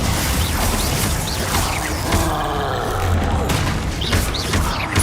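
Combat spell effects from the Hogwarts Legacy game on PC during a troll fight, with an icy Glacius cast landing amid a dense, continuous wash of booming, crackling game battle noise.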